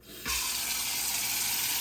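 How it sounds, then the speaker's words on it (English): Tap water gushes steadily into a pot after a brief quiet start, a loud, continuous rushing stream from a faucet near the microphone with no talking, while preparing to boil water for water-bath canning homemade apple juice. "So I'm gonna go ahead and fill my pot with water and bring that to a boil."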